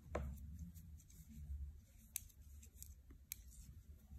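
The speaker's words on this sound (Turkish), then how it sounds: "Son artık bir taneyi kesiyorum." Scissors snip through fabric in quiet, close cuts, a few sharp separate clips against a low background hum.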